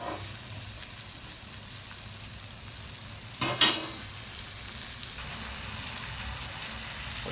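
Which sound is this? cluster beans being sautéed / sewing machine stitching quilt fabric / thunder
cluster beans being sautéed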